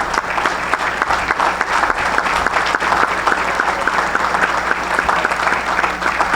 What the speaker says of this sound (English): let's give a round of applause for these district coaches of the year